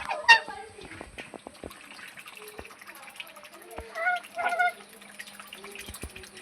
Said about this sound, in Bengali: আর এই যে রাজহাঁস